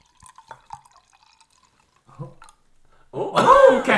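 Wine pours into a glass: a few faint drips and taps, then a short burst of gurgling, splashing liquid near the end, close and clear in a quiet room.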